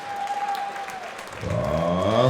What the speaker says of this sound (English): another round of applause for a hard-fought 155-pound contest